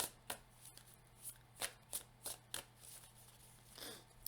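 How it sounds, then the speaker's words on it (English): Oracle cards being shuffled in a quiet room, a series of soft riffling bursts and flicks spaced irregularly with no voices present. "let's finish up with another oracle card to tie this"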